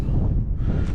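Brief, heavy cold wind buffeting on a microphone outdoors during metal detecting, a rumbling low roar that swells and dips over about a second.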